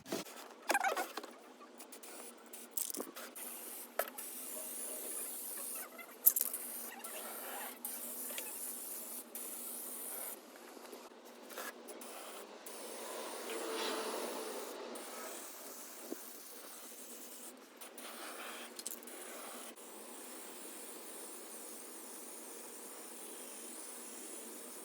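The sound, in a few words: spray paint being sprayed on miniature crib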